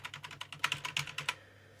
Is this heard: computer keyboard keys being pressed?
yes